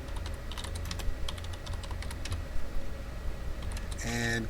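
Keys clatter on a computer keyboard in a steady run of light taps, close and fairly quiet over a low background hum.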